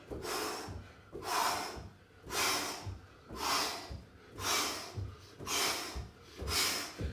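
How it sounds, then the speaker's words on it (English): Deep, rhythmic breaths during a full-body dumbbell HIIT workout, six or seven strong inhale-exhale cycles in a regular pattern, close to the microphone with no talk over them. "Notice how I'm breathing in time with my reach, really deep."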